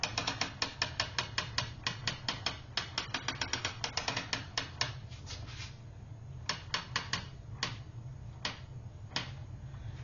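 Ratchet and pawl on a table loom clicking in quick rapid runs while the warp is wound on, then slowing to sparse single clicks, close and crisp with no talk.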